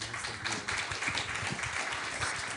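An audience claps steadily for two speakers at the end of a public science talk on dark matter and Einstein's theory. The dense, even patter is moderately loud, with no one speaking over it.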